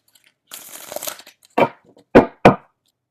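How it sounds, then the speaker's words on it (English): Tarot cards are shuffled by hand: a dry riffling rustle, then three sharp snapping riffles in quick succession, close and clear with no talk. "I'm just going to finish shuffling here"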